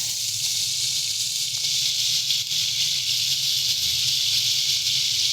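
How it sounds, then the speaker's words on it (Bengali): Prawns sizzling as they drop into hot oil in a pan, a steady, loud, bright hiss that continues evenly throughout with a faint low hum beneath. "তেল গরম হয়ে গেছে, এবারে আমরা চিংড়ি মাছটা দিয়ে দিচ্ছি"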